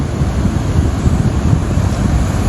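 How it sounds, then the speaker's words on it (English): Ocean waves crash on the rugged Point Arena coast in California, a loud, continuous roar of surf mixed with wind buffeting the microphone, with no voices. "Beautiful waves coming crashing in."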